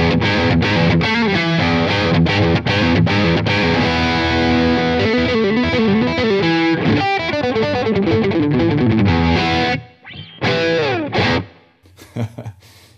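Schecter Nick Johnston electric guitar on its neck single-coil pickup, played through a PRS MT15 amp with a good amount of gain: loud, driven lead phrases with sustained notes. It cuts out in short gaps near the end.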